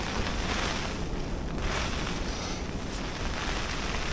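Strong wind gusts over open water during bottom fishing, roaring and buffeting the microphone in a loud, steady, close rush that swells slightly in places, with the wash of waves mixed in and no voices.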